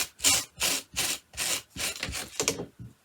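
A stiff brush scrubs chenille fabric on hot pads in seven rhythmic rasping strokes, each a dry scratchy burst with short pauses between, close and steady with no talking.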